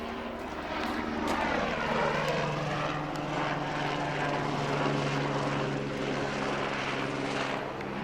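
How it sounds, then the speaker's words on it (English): A loud helicopter drones steadily overhead, its rotor thumping and engine whine filling the whole stretch with no talking. "can you hear that helicopter?"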